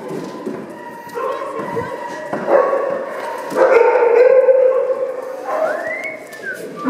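A puppy indoors in a small room gives repeated high yips and short barks with a whimpering rise near the end, close and fairly loud, interleaved with a person talking to it.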